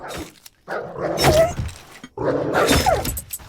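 Growling, barking dog in the video game Dysmantle, set in a desert area: two rough, roaring bursts about a second long each, loud and close, with no speech.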